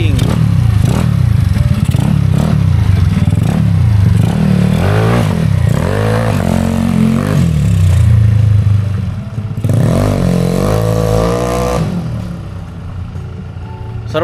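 Yamaha Mio Sporty scooter engine revving hard through its exhaust pipe, a loud, close, continuous rasping roar with rising and falling throttle sweeps, easing briefly near the end.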